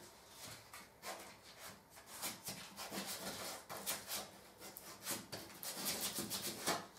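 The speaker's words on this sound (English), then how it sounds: "We are literally just wiping this over." Gloss paint being wiped over a wooden staircase, a close, soft rhythmic rubbing of brush or cloth on wood in quick repeated strokes, fairly quiet and without talking.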